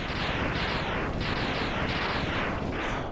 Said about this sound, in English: Also appreciate how brisk the explosions are in this.